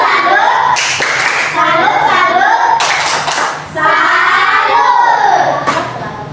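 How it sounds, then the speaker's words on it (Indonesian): Children in a classroom perform a salute clapping chant for a group of classmates: loud rhythmic claps mixed with shouted young voices, with a short lull in the middle before the clapping and chanting resume. "kita tepuk salut dulu buat kelompok 1"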